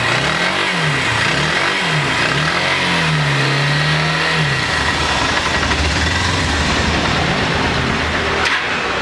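Honda Hornet motorcycle revved several times in quick rising and falling pulses, then held at a high pitch before dropping back to a close, steady idle.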